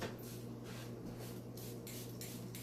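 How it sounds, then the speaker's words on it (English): Several quick hissing sprays of a mister puff out in a row onto lemon tree leaves, each a short soft burst of fine water spray, close and quiet. "you can also mist your lemon tree with a mister like this"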